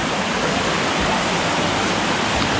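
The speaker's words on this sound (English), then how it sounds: "Logan, what do you think about the waterfall?" Soco Falls waterfall in Maggie Valley, North Carolina, roaring as a steady, dense broadband rush of falling water, close and loud, continuous with no voices.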